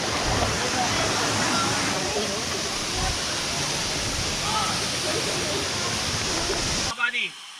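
A waterfall in Zambales roars as a steady, broad rush of falling water up close, then cuts off abruptly near the end, with voices talking nearby.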